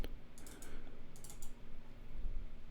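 A computer mouse button is double-clicked twice, two quick pairs of faint, crisp clicks about a second apart over a quiet room hum.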